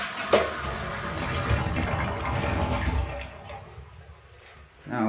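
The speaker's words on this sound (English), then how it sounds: "So when I flush this toilet, you're gonna hear gurgling in the shower." A household toilet flushes with a rushing, swirling surge of water up close, fading over a few seconds into a gurgle from a shower drain, then a short burst of noise near the end.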